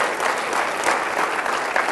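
Audience applause for military service members at a secular-government rally, dense, even clapping from a crowd filling the whole moment.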